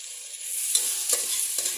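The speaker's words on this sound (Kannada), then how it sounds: "ಟೊಮೆಟೊ ಹಾಕ್ತಾ ಇದ್ದೀನಿ ಇವಾಗ" Chili and tomato fry in a pan for a kushka, with a continuous loud sizzle broken by a few scraping stirs of the spatula.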